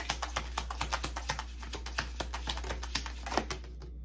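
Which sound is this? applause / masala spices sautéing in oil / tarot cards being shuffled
tarot cards being shuffled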